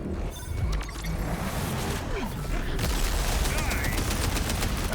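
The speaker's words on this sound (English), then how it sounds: "I'm going to show you the bod first. The bod is my favorite gun to boss with." Rapid bursts of gunfire from the Bod gun in Borderlands 4, loud and dense with crashing impacts, continuing throughout amid game effects and faint talk.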